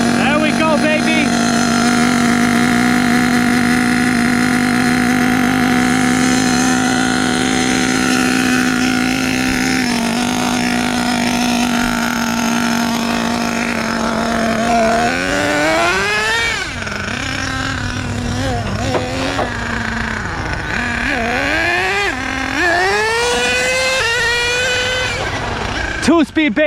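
A stock vintage nitro engine on a 3-speed HPI Savage XL K5.9 RC truck holds a loud, buzzing high whine up close. It then breaks into repeated sharp revs that climb and drop.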